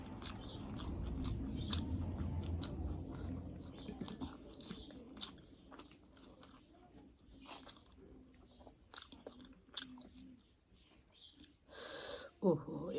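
Someone eating a Nepali meal of rice with buff (buffalo) gravy, close, wet chewing and soft crunchy bites repeating through the clip, with a brief louder clatter near the end.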